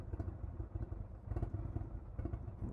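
A 2019 Indian Springfield Dark Horse 111 motorcycle engine idles with a low, steady rumbling throb and slight clattering, heard close and alone.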